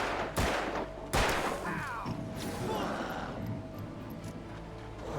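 Gunfire in the video game Alan Wake: a couple of sharp, loud shots with crashing impacts and a rumbling, noisy tail, heard close with no clear talk over it.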